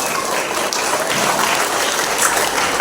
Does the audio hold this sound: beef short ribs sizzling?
no